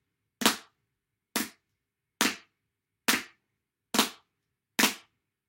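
Six sharp drum flams at an even, slow pace, each a light stroke followed almost immediately by a harder one, giving a quick crack with a brief doubled attack, crisp and alone.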